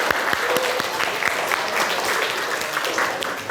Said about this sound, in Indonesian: beri aplaus dulu buat Zada